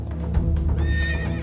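A horse whinnies loudly and close at a Takeda-school yabusame horseback archery training ground in Kamakura, Japan, a rising, trembling neigh lasting over a second, with no talk.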